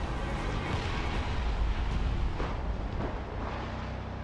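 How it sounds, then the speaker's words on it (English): A big explosion from the video game James Bond 007: Blood Stone on Xbox 360, a loud sustained roaring blast with rumbling debris that fills the whole clip with no talking. "Explosion."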